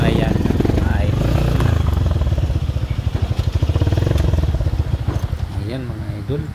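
A heavy motorcycle rumbles into a parking area with a loud, close, pulsing engine note that slows toward idle, while someone talks over it.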